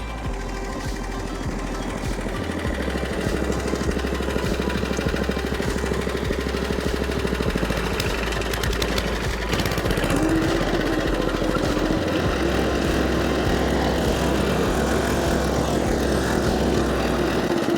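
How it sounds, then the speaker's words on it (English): Cylinder lawn mower cutting stripes into a lawn: a steady, loud, close engine drone with a whirring reel runs throughout without pause or speech. "with the cylinder mower to really get them stripes to pop"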